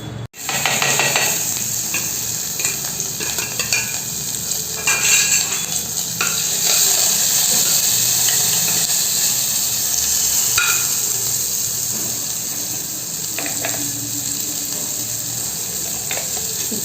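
Mustard seeds and cumin crackle and sizzle in hot oil for a tomato bath dish, a steady close frying hiss with small popping bursts and light stirring throughout.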